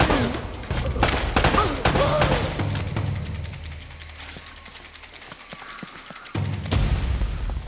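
Enemy gunfire in the video game Uncharted: Drake's Fortune rings out as sharp, repeated shots in clusters over an outdoor ambience. The shots ease into a quieter stretch with scattered pops, then the din rises again at the end.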